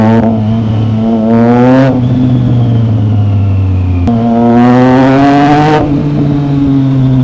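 A 2025 Triumph Trident 660 motorcycle with an aftermarket exhaust revs hard nearby, two long climbing sweeps of loud engine roar, each rising and then easing back toward a steady idle.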